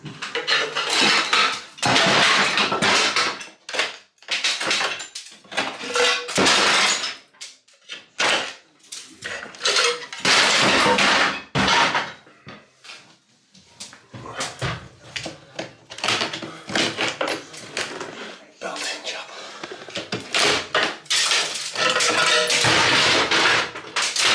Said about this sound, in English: Whole wall just fell off.